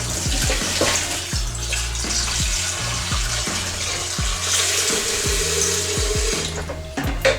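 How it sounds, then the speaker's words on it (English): Tap water runs steadily from a kitchen faucet, a loud continuous gush with small clinks and splashes from a sink during cooking preparation, with no talking. "So I've got some normal tap water here now."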